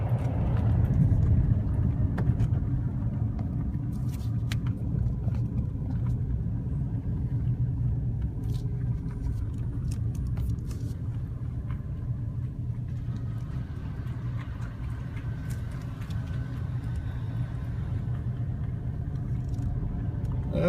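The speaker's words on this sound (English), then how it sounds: "We're just gonna drive slowly by it." A car rolls slowly past a guard shack at a park near the Gulf of Mexico, giving a steady low engine and tyre rumble that stays close and even for the whole stretch, with faint wind noise and no talking.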